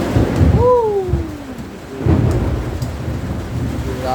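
Heavy rain pours down steadily with deep rumbles of thunder rolling through, loud and close, a dense downpour roar filling the scene without talk.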